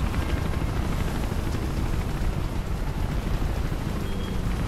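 A helicopter in the Mirror's Edge video game drones steadily and loudly throughout, a dense low rotor rumble with broadband noise and no speech over it.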